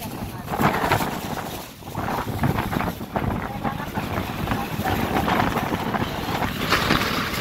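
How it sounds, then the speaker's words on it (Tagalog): Strong wind buffets the microphone in a constant roar on a road trip from Cavite to Batangas via Talisay, with people talking and calling out over it. "Oh, lakas ng hangin."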